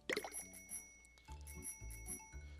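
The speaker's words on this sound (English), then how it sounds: "Gotta ring my bell" Bright chiming bell tones in Yo-Kai Watch on the 3DS, a quick cluster of rings up front followed by sustained ringing tones over a bouncy game soundtrack, alone without talk.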